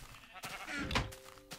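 Sheep in modded Minecraft bleat a few times in short, wavering game calls, with quiet gaps between them.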